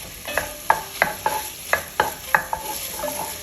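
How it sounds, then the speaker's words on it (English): Diced onions cooking in melted butter inside a Staub cocotte, with a series of sharp spoon-stirring scrapes and clacks in a steady rhythm over a soft sizzle, close and fairly loud, no voices. "we're gonna melt down the butter first. I'm gonna add my onions in here."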